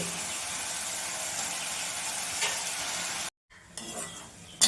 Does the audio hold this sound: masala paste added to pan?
yes